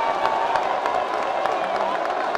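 A boxing crowd at a bout applauds and cheers loudly in a dense, continuous wash of clapping, with a commentator's voice faintly present beneath.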